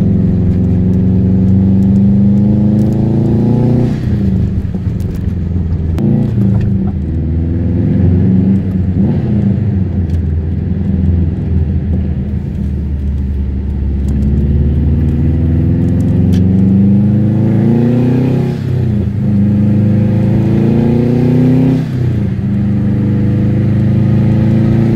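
Steady engine hum and road rumble inside a moving car, with the pitch rising and falling as it accelerates and shifts gears, continuous throughout.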